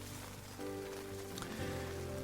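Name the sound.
rain falling outside a tent in the Scottish Highlands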